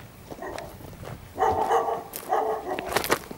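Small dog on a street in San Isidro, Tenerife, giving a few sharp barks and yelps in uneven bursts, fairly close, with light outdoor background noise.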